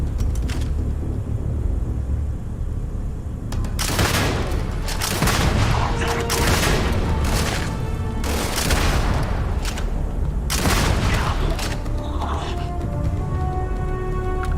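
Shotgun blasts in a video game, several loud sharp reports spaced a few seconds apart, each with a broad crack and low tail, over a constant rumbling game background.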